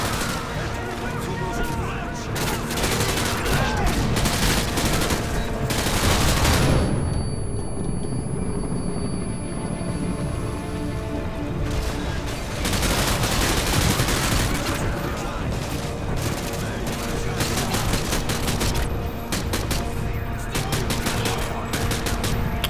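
Gunfire in Modern Warfare 2, with rapid bursts and single shots cracking repeatedly over a continuous rumble of battle noise, loud and dense throughout.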